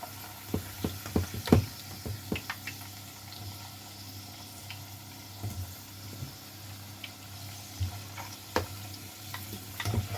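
Potato fries sizzle in hot oil with a soft continuous crackle, punctuated by scattered knocks and scrapes of stirring and lifting them from the pan.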